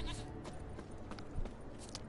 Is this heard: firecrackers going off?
no